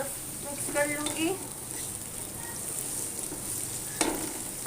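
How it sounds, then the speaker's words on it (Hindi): Raisins are stirred into softened carrots frying in a pan for Kabuli pulao, producing a soft ongoing sizzle with scraping stirs and a brief clatter near the end. "अब मैं इसके अंदर आधा कप किशमिश डाल दूँगी और मिक्स कर लूँगी।"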